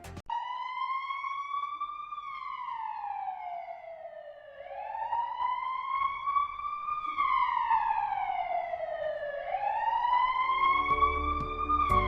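An advanced life support ambulance siren in an advertisement, a loud, continuous wailing tone that rises and falls in slow sweeps with no talking over it.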